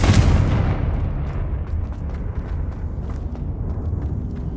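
A Confringo blasting spell explodes in Hogwarts Legacy, a single loud, close boom that hits hard at the start and then rumbles and crackles away in a long, low decay with scattered debris pops.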